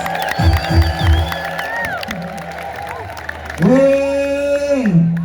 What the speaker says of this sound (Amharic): ሰው ልልታ ጭብጨባ ለኢየሱስ።